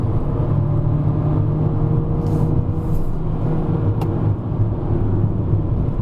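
Volkswagen Vento 1.2 TSI climbing a hill in manual mode, heard from inside as a steady engine drone and road rumble with a faint whir, holding a constant pitch without talk.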